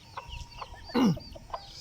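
A chicken gives a single short cluck close by, standing out over faint background sounds and softer scattered noises.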